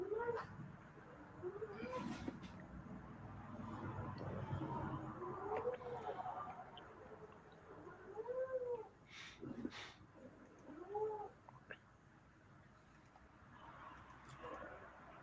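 A pet cat meows several times indoors, drawn-out rising-falling calls spaced across the stretch, moderately close, with a few soft clicks and thumps between them.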